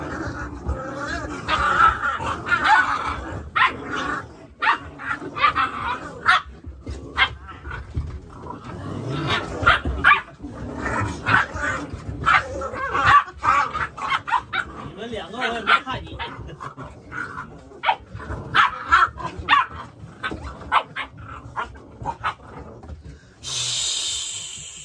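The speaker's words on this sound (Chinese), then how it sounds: "12只小狗大混战。" A litter of twelve Staffordshire puppies scuffle in a whelping room, with overlapping yaps, whimpers and growls close by, mixed with people talking over the commotion.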